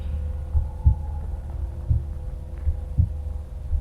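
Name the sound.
heartbeat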